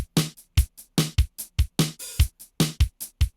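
A Boss BR-800 drum machine plays a steady rock beat, punchy kicks and snares alternating with crisp hits at a regular tempo, loud and clean.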